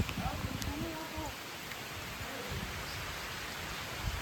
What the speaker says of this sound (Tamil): செம மழை வருது.